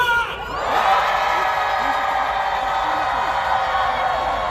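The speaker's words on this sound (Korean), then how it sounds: "여러분들의 시원한 함성이 필요합니다." A crowd of nurses and nursing students at an outdoor protest rally in Gwanghwamun, Seoul, against a veto of a nursing act, rises into sustained, loud cheering and shouting that holds steady after a brief quieter start.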